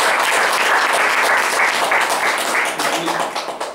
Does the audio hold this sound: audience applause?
yes